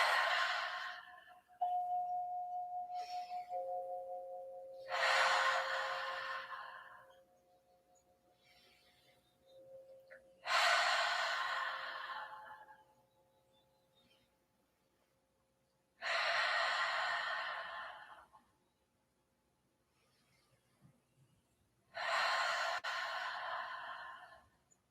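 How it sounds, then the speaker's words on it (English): Five big, powerful exhales through the mouth come close and clear at regular intervals, each a rushing breath that fades out, with near-silence and a faint hum in the pauses between them. "Exhaling powerfully out through the mouth."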